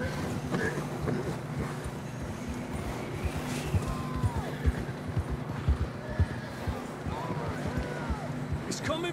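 Horse hooves clop rhythmically at a trot in Red Dead Redemption 2, with occasional whinnies and snorts over a low ambient rumble.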